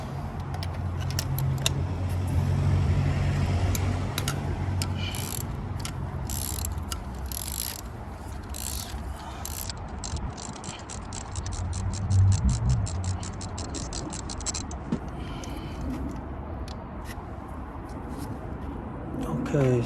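A ratchet loosens a spark plug on a VW Golf Mk5 with an engine misfire, giving bursts of rapid, crisp clicking close by over steady workshop background noise, with a few clanks and handling sounds.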